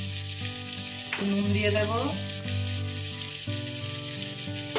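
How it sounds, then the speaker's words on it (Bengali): Chopped onions and three green chillies frying in oil in a home kitchen, turmeric going in, give a steady close sizzle, with stirring and background music throughout and a brief spoken line. "ভেজে নেব পেঁয়াজটা।"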